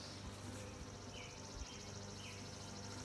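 Honey bees hum in a dense, continuous drone around a hive during a queen inspection as they are brushed off a frame, steady and close, with no talking.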